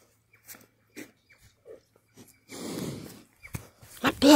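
Cattle chewing avocado silage at close range, with wet crunching, snorts and heavy breathing in short bursts, a voice speaking briefly over the munching.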